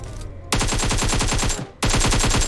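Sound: AK rifle gunfire in video game PUBG Mobile

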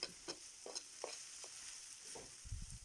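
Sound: purslane frying in a pan

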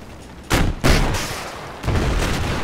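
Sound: gunfire hitting a vehicle in video game Battlefield 4

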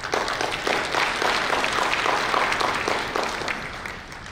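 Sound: audience applause after a speech

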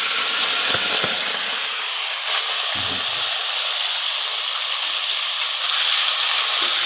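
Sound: taki fish added to hot oil, frying hiss

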